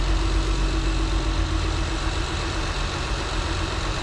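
A TL engine fitted with RL camshafts idles steadily and loudly, a continuous low rumbling hum with a slightly uneven pulse, no voices.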